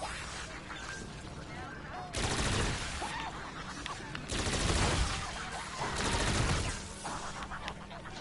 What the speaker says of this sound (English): That's fireworks trap.